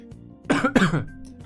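A single short cough, close and fairly loud, with a throaty rasp, surrounded by quiet room tone.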